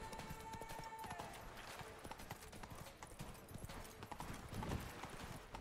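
Roach the horse gallops in Witcher 3, hooves clip-clopping in a quick, steady rhythm that stays close and fairly loud throughout, with game ambience underneath.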